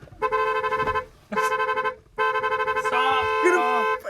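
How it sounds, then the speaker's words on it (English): A car horn sounds in three long, steady blasts separated by short gaps, loud and close, while people's voices talk over the last blast. "you need to honk the horn"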